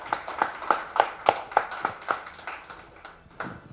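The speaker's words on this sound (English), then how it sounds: "Let's give him a round of applause." Audience at a tech career talk claps in a steady run of distinct, fairly close hand claps that carry on for several seconds before tapering off.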